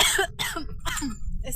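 A person recovering from a long illness coughs outdoors in Cologne in winter, three or four short, raspy coughs in quick succession, close and fairly loud.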